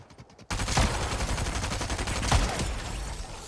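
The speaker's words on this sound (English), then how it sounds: "Going to peg him with a shotgun here." Rapid shotgun blasts in a video game, loud and close, repeating in a dense burst that fills nearly the whole stretch after a brief quiet opening, with one sharper shot standing out partway through.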